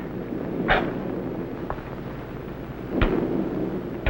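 Thunder from lightning rumbles low and broad in a steady roaring wash, with two sharper cracks breaking through, one early and one later, amid wind-like noise and no talking.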